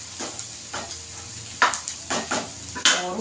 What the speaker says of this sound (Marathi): मस्त आपल्याला हलवून घ्यायचे